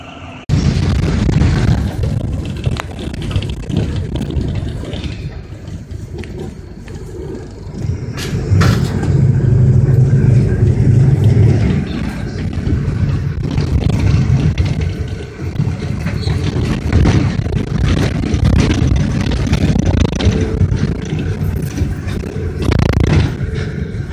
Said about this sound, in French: Bus qui est parti quitter.